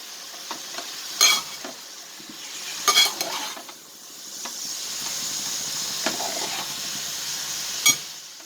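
Snake gourd stir-frying for poriyal in a pan, a steady soft sizzle with a few sharp scraping stirs and clinks of the spatula against the pan, fairly close and with no talking.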